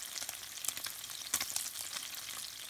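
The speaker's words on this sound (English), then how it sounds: "when frying the second batch of tapa" Tapa, a cured beef, fries in a pan, giving an even, close hiss of sizzling with a few sharper pops and crackles scattered through it.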